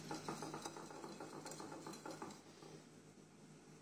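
Biscocho batter beaten in a bowl for Arab-style tea biscuits, giving a steady, rhythmic scraping and clicking of a utensil against the bowl. The strokes are close and fairly loud, then ease off toward the end.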